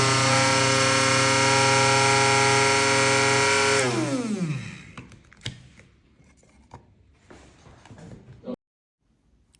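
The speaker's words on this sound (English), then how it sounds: "I'm just packing the leaves in my coffee grinder. This is one by Hamilton Beach." A Hamilton Beach coffee grinder packed with moringa leaves gives a loud, steady motor whine for about four seconds, then spins down, followed by quieter clatter and handling noises.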